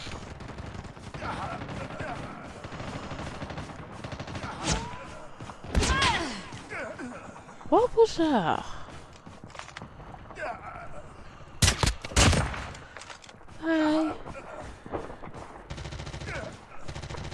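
Gunfire in a clan war battle video game: sharp bursts of shots around six, eight and twelve seconds, with scattered thuds between and players talking over the action.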